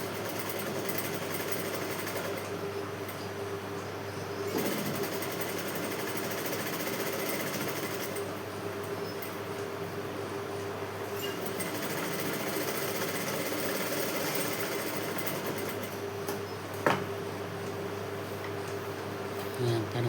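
Continuous steady whir of a sewing machine stitching the neck lining of a blouse, a loud mechanical hum running almost unbroken with a few brief pauses and small clicks.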